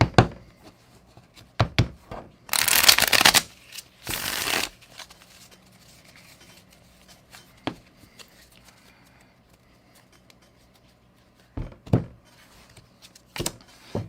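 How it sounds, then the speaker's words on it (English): An Uno card deck is shuffled in two quick riffle bursts, close and crisp, with scattered taps and knocks of cards on a table before and after. "Let's go ahead and give the Uno deck a good shuffling."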